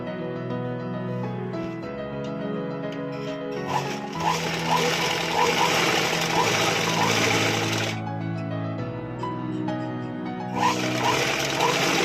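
A sewing machine stitching fabric for a long frock made from a silk saree, its motor whirring in close bursts that start and stop, with a brief pause between runs.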